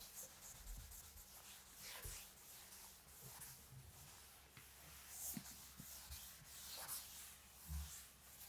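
A duster or cloth rubbing writing off a classroom board, close and soft repeated swishing strokes in an uneven rhythm, quiet and alone without speech.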